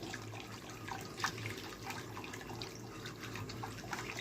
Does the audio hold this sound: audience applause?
no